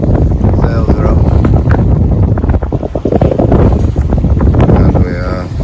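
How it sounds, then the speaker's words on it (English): A sailboat runs under mainsail and headsail in a morning breeze in the Gulf of Corinth, with steady rushing water, heavy wind buffeting and a voice talking underneath. "got a reasonable breeze, morning breeze this morning, and both sails are up"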